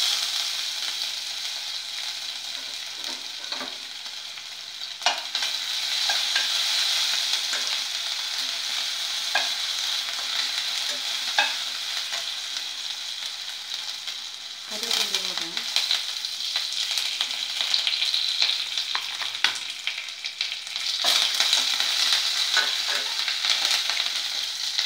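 Grated ginger and garlic fry in a pan for masala mini idli, a continuous close sizzle overlaid with repeated scraping and clattering stir strokes, with a faint voice now and then.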